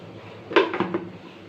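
A metal lid lifts off a pot of simmering kofta curry (urundai kuzhambu), giving a short close clatter and scrape of metal against metal, then a couple of lighter clinks before fading into quiet kitchen room tone.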